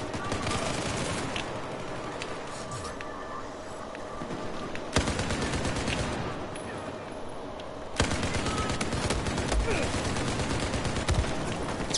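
Dense crossfire in the Battlefield 4 online shooter: continuous rapid gunfire and bursts crackle loudly throughout, with a couple of sharp abrupt cuts.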